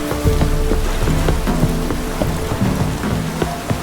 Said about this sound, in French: Il pleut déjà, Gérald.